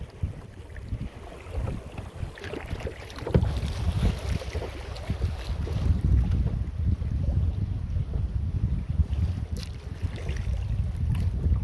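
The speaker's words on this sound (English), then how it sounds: "Here comes some rapids." A kayak runs through river rapids on a foggy morning, steady rushing water and broadband wind noise on the microphone building and holding loud throughout.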